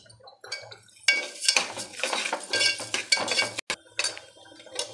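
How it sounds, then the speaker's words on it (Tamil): Basmati rice roasts in ghee in a pot for caramel payasam, heard as irregular scraping and clinking of a spoon stirring against metal over a faint sizzle, close and uneven. "நெய் விட்டுருக்கேன், அரிசியை வறுக்கலாம்."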